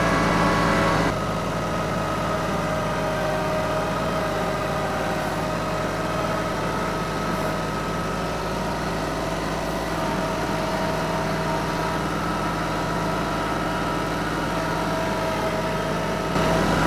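A 25-horsepower loader engine runs at a steady idle, a constant droning hum with a low rumble that holds unchanged and close for the whole stretch, with no talk over it.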